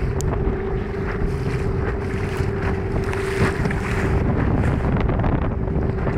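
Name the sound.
boat travelling at sea with wind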